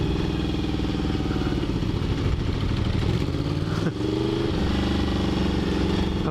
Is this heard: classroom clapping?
no